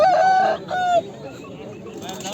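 A rooster crows loudly and close by at a poultry and songbird market in Edirnekapı, Istanbul, one strained call with a brief break, followed by quieter background noise.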